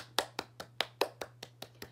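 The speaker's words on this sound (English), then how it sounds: "Y'all know we have to clap for that book." Steady round of hand claps, about nine sharp even beats in two seconds, close and fairly soft, with no talking, as listeners applaud after a picture book is read aloud.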